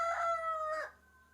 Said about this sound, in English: You just get a hello from the rooster to stay present.